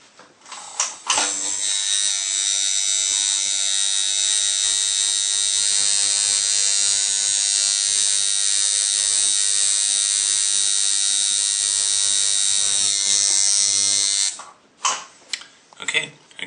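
A tattoo machine fitted with a bent needle grouping runs in a steady, loud, high-pitched electric buzz for about thirteen seconds, with brief clicks and handling noises before and after.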